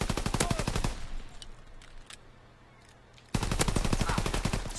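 Machine pistol gunfire in the online shooter Call of Duty: WW2, loud rapid bursts of close automatic shots, a pause with faint game noise, then another sustained burst.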